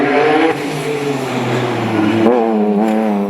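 A Nissan 370Z race car screams along sideways toward the finish line, engine loud and close with a shifting pitch and a brief dip as the revs change.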